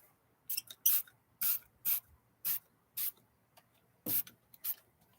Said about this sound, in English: So what I'm going to do is just have a little bit of Lysol.